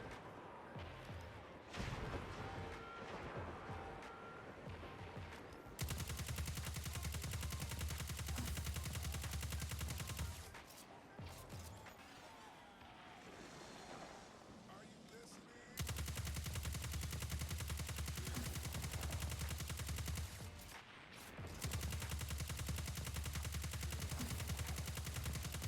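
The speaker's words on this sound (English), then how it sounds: "your gun will have no recoil and it will fire completely straight every single time" Rapid sustained gunfire from a no-recoil gun in the video game Destiny 2, long dense bursts of several seconds each separated by short pauses, loud and close, with no talk.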